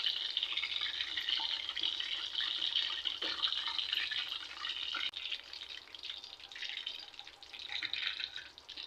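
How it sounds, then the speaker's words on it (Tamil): Adhirasam dough frying in hot, boiling oil gives a continuous, faint crackling sizzle with a few brief pops. It stays quiet and steady, with no voices. "இப்போ நம்ம தட்டி விட்டுது இதை மாதிரி எண்ணெயில் போட்டுக்கலாம்."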